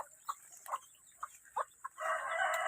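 Several short clucks from chickens, spaced irregularly, then a loud sustained rooster crow bursts in near the end, close and clear.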